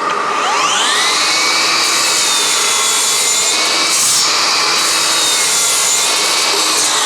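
A FLEX miter saw with vacuum dust collection runs steadily and loudly throughout, a sustained whine and rush of motor and suction that spins up at the start and holds constant with no voices.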